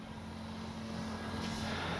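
A ParkZone Sport Cub S2 radio-controlled model plane flying overhead, its faint steady propeller and electric motor drone carrying at a distance over a quiet outdoor background, rising slightly toward the end, with no voices.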